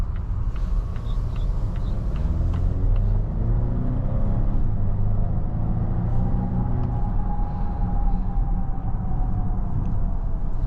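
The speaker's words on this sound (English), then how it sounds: "standard, you know, regular acceleration for a B6" Volvo XC90 B6 AWD SUV accelerating normally on the road, a steady low engine drone rising in pitch as the gears change, heard from inside the cabin over road rumble.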